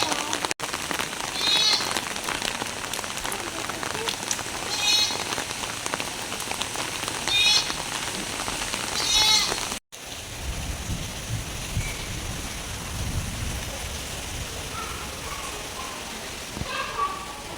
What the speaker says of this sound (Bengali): আর প্রচণ্ড বৃষ্টি হচ্ছে